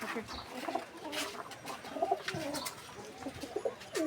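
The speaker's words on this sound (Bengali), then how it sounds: "কত সুন্দর কবুতরের বাচ্চা" Soft coos from pigeon chicks at a pigeon loft repeat a few times at a moderate distance, with light chirps and background noise around them.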